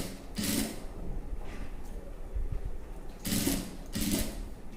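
A sewing machine stitches a dress neckline design in short whirring bursts separated by pauses, with two quick runs near the end, heard close and fairly quiet.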